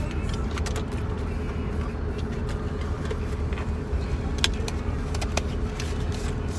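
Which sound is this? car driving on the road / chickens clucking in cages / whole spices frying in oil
car driving on the road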